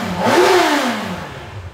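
A Honda CB1000 motorcycle with its original exhaust revs loud and close, its engine note climbing and then falling back to a steady idle.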